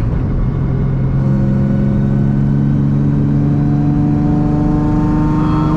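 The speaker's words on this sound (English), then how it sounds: "you should be able to hear that exhaust leak right there" Nissan 350Z engine revving with an exhaust leak, a loud, steady mid-pitched drone whose harmonics climb and waver as revs rise, with a raspy leak-like edge running throughout and no talking.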